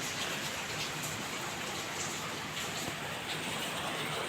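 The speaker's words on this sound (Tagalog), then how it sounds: "Raining." Steady rainfall, a soft even hiss of drops with no breaks, faint and continuous throughout, no voices.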